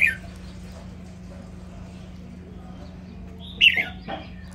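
Crested bulbul songbird chirping: brief, bright chirps, one at the start and a short burst near the end, over a quiet steady hum with long gaps between calls.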